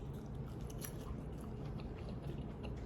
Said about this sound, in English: Let's go ahead and taste our green beans.